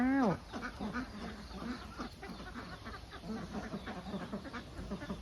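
Khaki Campbell laying ducks on an egg farm give a chorus of overlapping quacks and chatter, fairly faint and continuous, opening with one sharper call.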